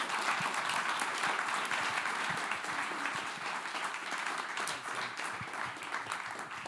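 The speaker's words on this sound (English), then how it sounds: "Please give an applause to Sarah and come and see her afterwards." Audience applause after a lecture at a Middle East masterclass with a cartoonist, a steady wash of many hands clapping that holds fairly evenly for several seconds and eases off slightly toward the end.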